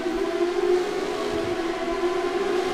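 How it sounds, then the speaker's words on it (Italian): In the F1 2013 racing video game, a Formula 1 car's engine wails in a steady, droning high-pitched tone inside a tunnel, continuous and echoing with no voices. "Che figato il rumore del tunnel."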